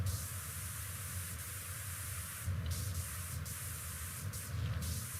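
Steady broadband spray hiss from a pressure washer in Pressure Washer Simulator 2, running continuously with brief louder bursts as the nozzle sweeps, cleaning a grimy Star Wars-themed setting.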